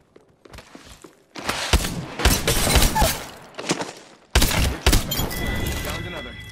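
Apex Legends gunfire comes in bursts of rapid shots and impacts at close range, with thuds and clattering among them and quiet gaps between volleys, and speech is heard at points.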